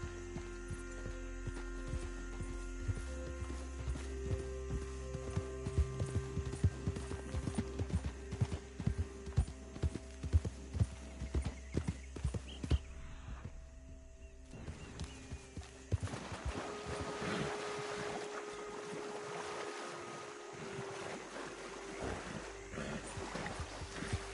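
Horse hooves clip-clop in a western video game, a steady rhythmic trot against a soft ambient bed of wind and water sounds, fading later into a quieter wash.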